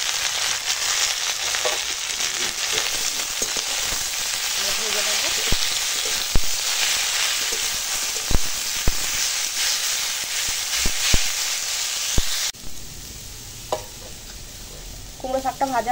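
Chopped pumpkin leaves sizzle steadily in hot oil with onion, green chili and garlic, with sharp scraping stirs throughout; the frying hiss drops to a quieter simmer near the end.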